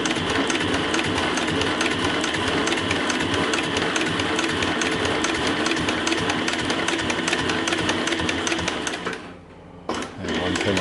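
A Cowboy CB 7273 industrial sewing machine stitches long stitches in a loud, steady mechanical run that carries on without pause, then briefly slows and drops off near the end before the motor picks up again.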